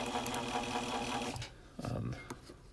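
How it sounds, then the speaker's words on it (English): A motorized Norvise fly-tying vise spins while wrapping thread onto a Mustad 6/0 saltwater treble hook, giving a steady, close mechanical whir that stops partway through, followed by a few soft handling sounds. "having a Norvise and then motorizing it has made all the world of difference"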